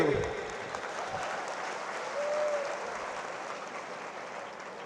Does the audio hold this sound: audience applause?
yes